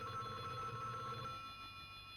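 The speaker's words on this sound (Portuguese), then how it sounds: "Barulhinho do telefone." Telephone ringing in the Final Fight arcade game intro, a steady electronic bell trill, clear and alone, fading slightly toward the end.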